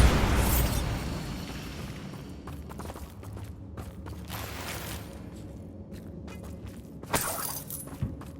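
A Bombarda explosion spell from the video game Hogwarts Legacy detonates with a loud, broad blast at the start, rumbling and crackling as it fades, followed by a couple of sharper bursts later.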